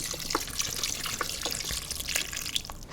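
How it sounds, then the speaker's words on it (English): Water pouring from a tap into a 6-quart pasta pot, a steady splashing trickle with a few brighter drips, close and moderately loud, no talking. "We're gonna add about 4 cups of water, and we want the water to come up to almost covered"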